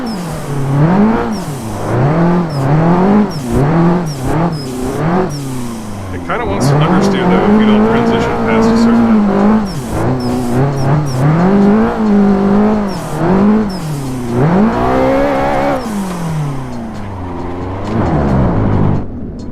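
A loud car engine from a racing game, an SR engine swap mod car, revs and drops repeatedly through gear changes, with tire squeal mixed in and a rough, tuned exhaust note.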